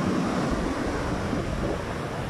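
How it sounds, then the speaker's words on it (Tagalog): Strong ocean waves crash and roar at Bagasbas Beach, a steady loud wash of surf with wind noise across the microphone and no talking. "Sobrang lakas ng alon."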